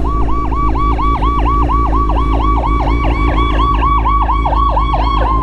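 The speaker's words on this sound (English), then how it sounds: "Oh, ambulance." An ambulance siren wails in a steady, rapid up-and-down pattern, loud and close, over the low rumble of road and engine noise.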